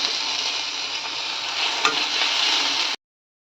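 Steady, loud sizzling of onion and tomato sautéing in a pan, a continuous hiss with a faint stir partway through, then it cuts off abruptly.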